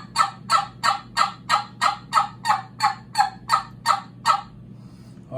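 A hen turkey yelp imitated with breath and tongue on a Terminator Tube call: about a dozen evenly spaced, raspy yelps in a steady fast cadence, loud and close, then a brief quiet pause.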